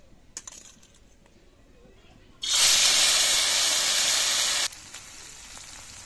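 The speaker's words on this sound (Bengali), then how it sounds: "এদিকে মাছটা ভাজা হতে থাক" A burst of loud hot-oil sizzle as fish goes into a wok, rising abruptly and holding steady for about two seconds before dropping back to a quieter background.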